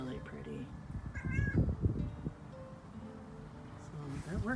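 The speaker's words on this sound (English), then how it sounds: "There's a kitty." A cat meows a few times in a high, wavering voice, close by, while someone talks over it in a casual home setting.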